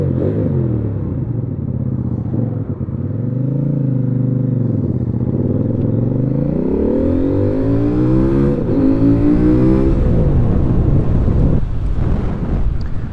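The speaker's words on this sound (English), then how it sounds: "Okay, let's ride the 800NK." A CFMOTO 800NK motorcycle, around 100 horsepower, is ridden hard, its engine note climbing steadily through the revs under loud rushing wind buffeting the microphone, staying close and strong throughout.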